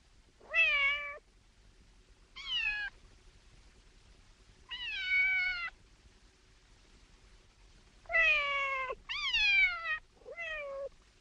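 A person imitates a cat meowing, six drawn-out mewing calls in uneven bursts with short pauses between, close and clear against a quiet background.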